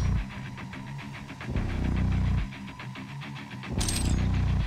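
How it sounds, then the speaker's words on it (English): The BFG weapon in Doom 2016 revving up: a low, pulsing, throbbing hum that swells in two long surges and then a third, ending with a sharp bright burst near the end. "That BFG division revving up."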